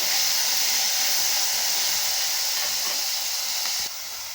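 Chopped onion and a small tomato sizzle steadily in a hot pan for a cucumber buttermilk curry, a continuous close hiss with no talk.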